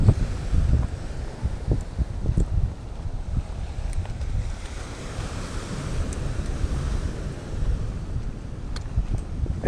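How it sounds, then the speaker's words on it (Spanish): Rough sea surges against the rocky coast of Mallorca's Llevant shore, a broad roaring wash of waves rising and falling with gusty wind buffeting the microphone, no speech. "Está bravo el mar hoy."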